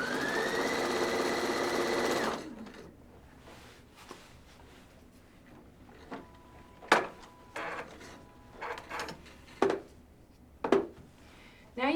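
A sewing machine stitches encased welt cord in a steady loud run for about two seconds, then stops, leaving scattered faint handling clicks and knocks.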